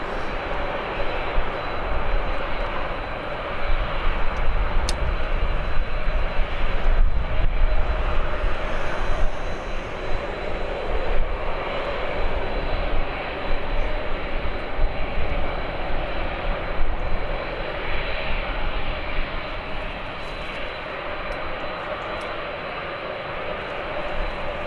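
A Boeing Dreamliner airliner departing Birmingham airport, producing a sustained, rumbling engine roar that builds early on and then eases into a steady, distant drone without speech.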